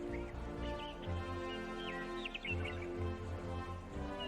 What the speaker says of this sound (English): Sounds like there's another bird.